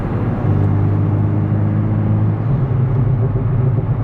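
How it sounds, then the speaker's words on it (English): A straight-piped VW MK7.5 GTI with a burble tune gives a steady, loud turbo and engine drone from inside the car while driving, a constant low rumble with no voices. "Turbo noise."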